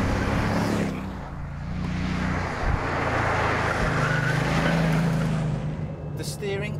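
A Bugatti Veyron Super Sport accelerates at full throttle, its broad, heavy roar surging and swelling loudly from inside the car while a voice talks over it.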